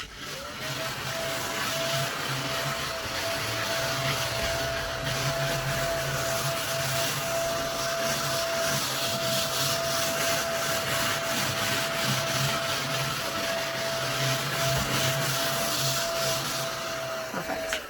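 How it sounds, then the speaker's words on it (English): A small handheld vacuum hums steadily and close by, a continuous whirring drone with a faint high whine, running without pause. "It's just a little handheld vacuum and just sucks up little teeny tiny follicles of stuff."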